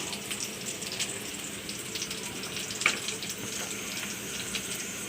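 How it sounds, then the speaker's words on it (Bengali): Onions and green chilies hit a pan of oil just used for frying fish, giving a soft, constant sizzle like running water, fairly quiet and close, with one brief sharper clink partway through and no talking. "এর মধ্যে আমি পেঁয়াজ কাঁচামরিচ দিয়ে দিলাম"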